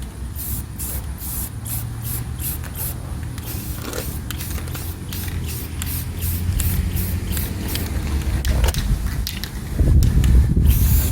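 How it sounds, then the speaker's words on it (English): Light coats of spray paint go onto a truck tailgate as short repeated bursts of close hissing, with scraping handling noise between them and a louder rumble near the end. "Just going to put some light coats on here."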